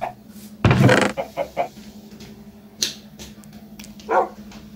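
A tamed wolf in Minecraft barks once loudly, followed by several quieter yips and whines spread over a few seconds against a low game hum.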